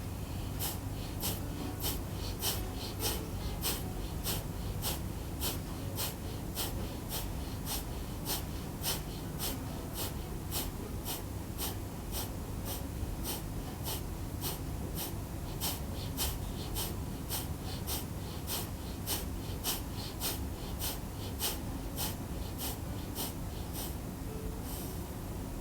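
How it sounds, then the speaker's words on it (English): Bhastrika yoga breathing, a long run of rapid, forceful, evenly spaced breath bursts, about one per second, loud and close over a steady hiss. "So these were 3 rounds of Bhastrika, where we count 30 times each small breaths."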